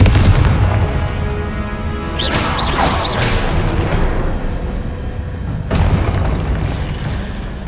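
A loud, booming Confringo spell blast in Hogwarts Legacy, a heavy explosion around two seconds followed by crackling bursts and a second thud near the end, with no talking.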